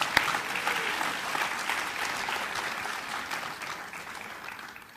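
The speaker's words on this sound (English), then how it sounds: "give you a round of applause for being here" Audience at an education session of a Toastmasters global convention in Malaysia gives a round of applause, a full, even roar of many hands clapping that holds steady and begins to fade toward the end.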